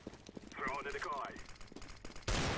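Rapid gunfire bursts from a round of the CS:GO video game, repeated sharp cracks under a voice and game sounds, ending with a loud, dense burst of noise.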